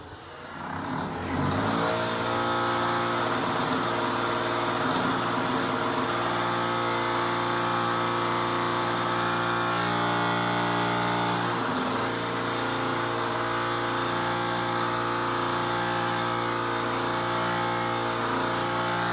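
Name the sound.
bench wire wheel cleaning brake parts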